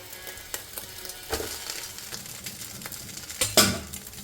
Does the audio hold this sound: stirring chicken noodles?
yes